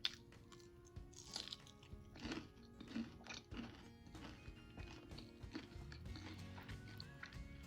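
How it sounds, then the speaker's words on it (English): Fried bang bang shrimp crunches loudly with each bite, giving several crisp, irregular crunches and chewing sounds close to the mic with no talking. "You guys hear that crunch?"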